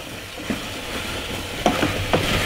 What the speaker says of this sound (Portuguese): Ó, vou mexer.